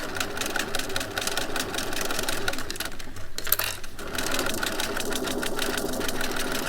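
A sewing machine runs steadily as it stitches piping cord onto a contoured head cover, a continuous mechanical whir heard close up with a brief pause partway through.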